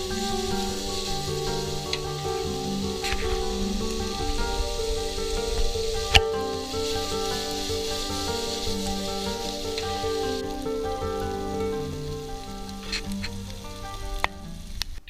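Food sizzles steadily in a pan on a camping stove in a van, a dense crackling hiss that stays close and even throughout, with a few brief sharper pops and no talking.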